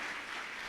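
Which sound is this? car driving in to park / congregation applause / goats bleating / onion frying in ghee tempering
congregation applause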